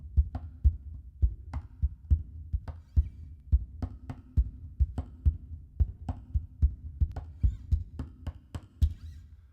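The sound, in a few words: tapping on guitar body as percussion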